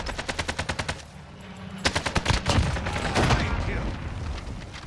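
Gunfire in a multiplayer shooter game, with two quick rhythmic volleys of sharp, evenly spaced shots followed by heavier reports and a rumbling tail.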